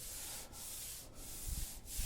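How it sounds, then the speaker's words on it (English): Sandpaper rubs back and forth across body panels on a 1940 Ford pickup during final bodywork, a quiet, continuous hiss with three brief pauses between strokes. "You can see me kind of rubbing it when I was sanding it just to make sure it's a low spot"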